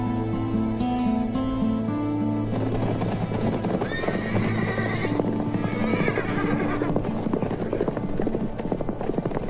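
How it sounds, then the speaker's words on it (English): Horses resting in the shade in an ancient desert, with neighing and whinnying calls over hoof clip-clop, set against a loud continuous background. "they leave the horses in the shade"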